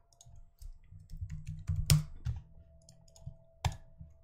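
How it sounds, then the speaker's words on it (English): Scattered close key clicks on a computer keyboard as a command is typed, ending with a sharp louder keystroke, over faint low background noise with no talking. "we're just gonna type in the general command"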